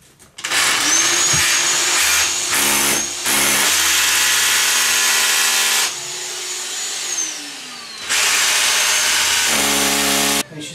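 A power drill bores holes into a wall for wall plugs during a column radiator installation, running loud and close in several bursts that start, whine for a few seconds, stop briefly and start again.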